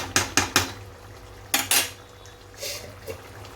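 A metal lid is set on a cooking pot of chicken curry, making a cluster of sharp clanks and scrapes, then two more clatters and a softer knock, close by with no talking.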